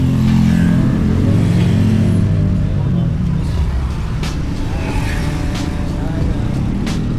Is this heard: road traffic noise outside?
yes